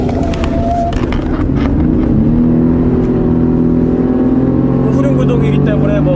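An unladen Chevrolet Colorado pickup truck in rear-wheel drive mode, its engine revving and whirring as it accelerates and corners, a steady motor drone with rising pitch while people talk over it.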